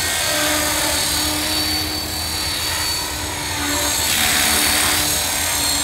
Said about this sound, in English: Lovely little heli to fly now, very, very nice.